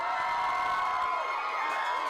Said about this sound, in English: This cheering noise going on.